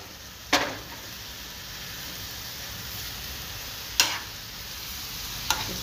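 Butter garlic mushrooms frying in a pan on a low gas flame, a steady soft sizzle broken by three sharp clicks of a utensil against the pan as the pieces are stirred.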